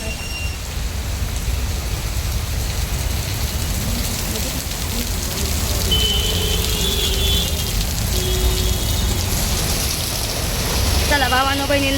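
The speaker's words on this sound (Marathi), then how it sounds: "खूप पाऊस येतो आहे." Heavy rain falls steadily, a dense, loud, unbroken wash of drumming on surfaces close by, with a few faint tonal sounds in the background.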